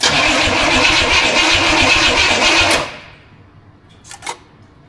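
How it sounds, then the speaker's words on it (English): A Studebaker car engine cranks on its starter in a loud, steady, churning run for about three seconds, then cuts off into near silence with a faint brief click afterward. "Ignition on, starter."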